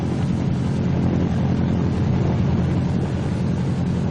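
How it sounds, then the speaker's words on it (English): Continuous loud roar of a Martin B-26 Marauder's radial engine during a ground run-up and prop check, steady broadband drone with heavy low rumble, close by and with no talk. "Next is the engine run-up and prop check, one engine at a time."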